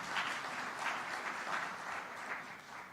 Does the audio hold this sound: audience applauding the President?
yes